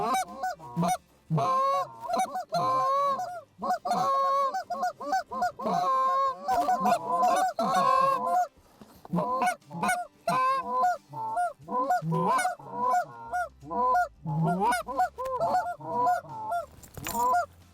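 Geese honking repeatedly in loud, close, overlapping bursts during a goose hunt, a chaotic rhythmic chorus of nasal calls with brief gaps, no speech heard.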